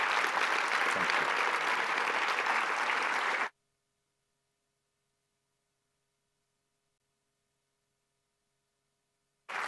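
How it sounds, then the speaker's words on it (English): A conference plenary crowd at TriCon 2025 gives speaker Ed Futa dense, steady applause for about three and a half seconds. Near-silence follows, and the clapping returns briefly at the very end. "Another big round of applause for him."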